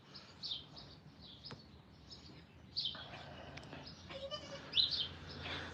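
A baby goat in a maternity pen gives a few faint, thin bleats amid soft rustling and low background noise, with a slightly louder cry near the end.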